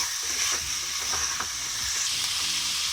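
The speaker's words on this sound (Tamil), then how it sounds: "இந்த இஞ்சி பூண்டோடவே நல்லா வதங்கட்டும்" Frying in a pan with ginger and garlic for hariyali chicken, a dense close sizzle and hiss carrying light rhythmic stirring scrapes throughout, with no talking.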